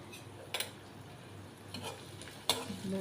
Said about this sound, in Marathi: त्यात आपण मोहरी टाकलेली आहे त्यानंतर आपण लसूण पण टाकलेला आहे